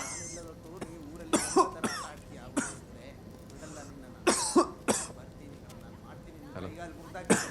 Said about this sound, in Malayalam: ചുമ മാറിയില്ലേ? ഇല്ലടെ ഈടി പൊടിന്റെ അലർജി കാരണം ചുമ വിട്ട് മാറുന്നില്ല.